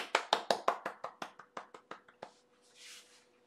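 Hands clap about a dozen times in a quick, steady rhythm, each clap sharp and close and fading slightly over the run, followed by a brief soft rustle; no one speaks.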